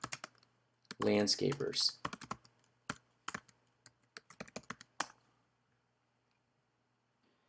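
Rapid clatter of computer keyboard typing, close and crisp, with a quick burst of keystrokes followed by scattered taps before trailing into quiet; a voice speaks briefly over the keys.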